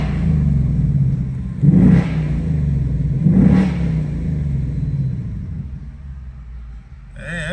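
A 2024 Mustang GT S650 V8 fitted with big intakes rumbles at idle and is revved twice in quick, deep swells before settling back to a steady, close, loud idle.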